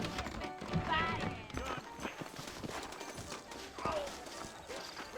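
Horses clip-clop at a trot in Red Dead Redemption, a rhythmic string of hoof beats close by, mixed with voices talking over them and a brief whinny.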